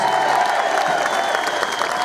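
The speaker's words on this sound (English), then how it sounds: "Give her a good round of applause there, please." A crowd at a protest rally gives a steady round of applause, a dense wash of clapping with faint cheers throughout.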